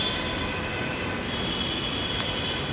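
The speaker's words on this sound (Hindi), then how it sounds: "आ तो रही है भाई मेट्रो," A metro train rumbles steadily with a broad roar and a faint high whine, loud and close, as if pulling into a station.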